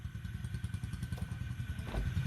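A road tuk tuk passes along a road in Thailand, giving a faint, steady low engine chug with a little clatter, heard from some distance with no talking.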